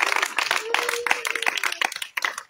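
A church congregation at an evening worship service claps dense, lively applause to acclaim the Lord, a crowd of hands close and loud throughout, with a faint sustained tone beneath and a brief dip near the end.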